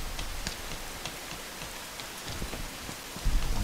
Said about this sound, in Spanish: Porque está lloviendo